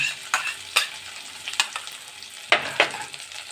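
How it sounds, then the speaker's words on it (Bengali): Chopped onions fry in a pan for palak paneer, a soft sizzle broken by sharp, irregular scrapes and taps of a spatula stirring them, close and clear with nobody speaking. "পেঁয়াজগুলো আমি একটু ভেজে নিচ্ছি একটু সোনালি হওয়া পর্যন্ত"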